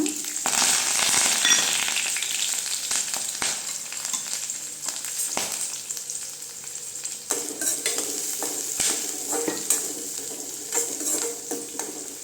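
Onions and curry leaves sauté in hot oil in a pan for beans poriyal, giving a steady, close sizzle broken by occasional stirring scrapes and light utensil clinks, with no talking.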